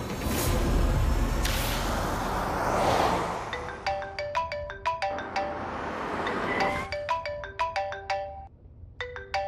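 A phone ringtone plays in repeated electronic bursts after a brief noisy whoosh, the melodic tones fairly loud and close, pausing between rings.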